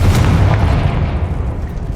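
A Confringo blasting spell explodes in Hogwarts Legacy inside a tomb, a loud booming blast with a heavy low rumble that rolls on and slowly fades across about two seconds.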